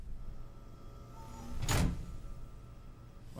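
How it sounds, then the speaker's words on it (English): In the video game Alpha Protocol, a door unlocks with a short sliding mechanical swoosh and thud in the middle of a steady electronic hum, set against a quiet background. "Well, the door just unlocked."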